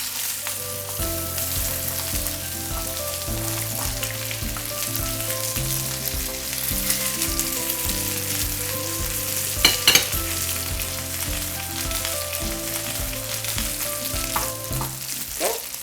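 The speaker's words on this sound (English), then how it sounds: "Now I'm just gonna flip the fish so the other side could get some butter flavor too." A fish fries in lemon butter sauce in a pan with a constant sizzle. Steady background music plays throughout, and a short clatter comes near the middle as the fillet is turned; no talking.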